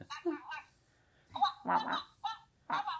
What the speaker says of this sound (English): So you can pet the back to make them quack.